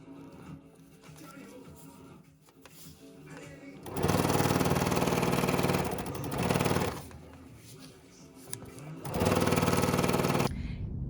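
A sewing machine stitches quilt block pieces in two loud, close bursts of rapid mechanical whirring, separated by quieter pauses with soft handling noises.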